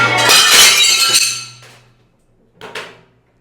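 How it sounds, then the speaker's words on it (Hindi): A glass window pane shatters in a bathroom, a loud crash with a bright spray of breaking shards that rings out and fades over about a second and a half, followed by a brief second clatter of falling glass. "ये शीशा तोड़ दिया ना"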